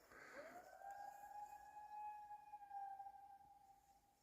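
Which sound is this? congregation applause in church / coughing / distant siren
distant siren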